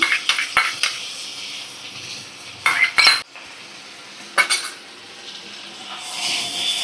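Ginger garlic paste stirred into fish in a pan, with a spoon scraping and knocking against the metal in a few short strokes over a light, steady sizzle.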